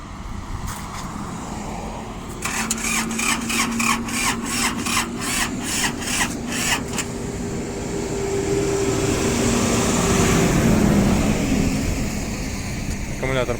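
The starter of a Kubota GL33 tractor with a weak, run-down battery cranks in a slow rhythmic grind of repeated pulses, followed by a fading whir as it fails to fire, close and loud, with speech throughout.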